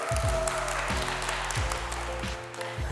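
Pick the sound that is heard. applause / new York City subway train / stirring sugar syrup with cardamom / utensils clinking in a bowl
applause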